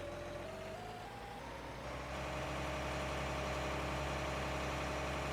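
A tractor in Farming Simulator 19 idles with a steady low, rumbling drone that swells slightly louder after a couple of seconds and then holds even to the end, with no talking over it.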